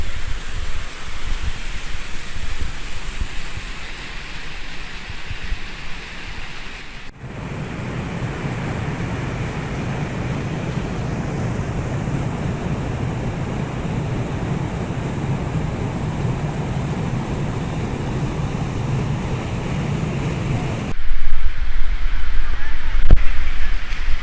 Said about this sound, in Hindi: आप पानी का फ्लो चेक कीजिएगा